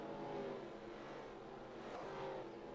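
Race cars in NASCAR Racing 2003, a Cadillac among them, roar steadily around the track at Australia in a fantasy series race, a continuous loud engine drone with a car swelling past near the end.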